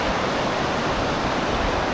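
A mountain stream cascades down rocky steps among pine trees at Sitio Catmonan in Mati City, Davao Oriental, making a steady, full rush of water that stays close and continuous with no voices.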